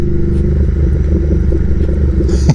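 A Royal Enfield Interceptor 650 motorcycle engine runs with a steady, deep, throbbing rumble, loud and close, holding an even note with no talk over it.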